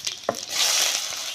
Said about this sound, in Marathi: त्याला आता तेल तापलंय, फोडणी टाकायची.